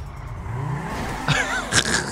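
Car drifting in a parking lot in the video game GTA 5, engine droning with sharp tire squeals bursting out near the end, no talk over it.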